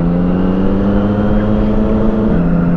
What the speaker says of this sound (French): Ah, attention, tracteur.